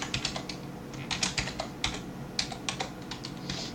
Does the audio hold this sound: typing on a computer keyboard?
yes